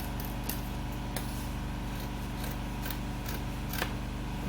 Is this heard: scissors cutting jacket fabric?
yes